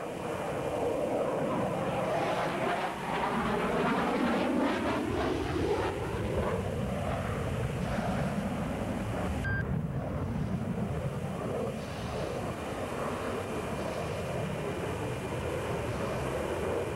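Jet aircraft at full power during an airshow maneuver at the 1989 Paris Airshow, a loud, continuous roar with a sweeping rising and falling pitch and buffeting wind noise throughout.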